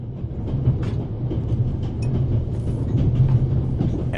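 Steady low rumble of a passenger train ride aboard the Orient Express in the video game The Raven Remastered, a continuous rolling drone with faint rattles and clicks, no talking.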